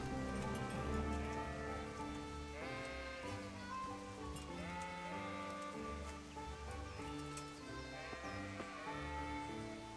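In a sheepfold in Kingdom Come: Deliverance, several sheep give repeated wavering bleats at moderate distance over a droning background with light pattering, no voices present.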